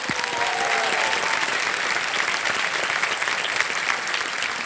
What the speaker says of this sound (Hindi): एक बार फिर तालियों के साथ इनका स्वागत किया जाए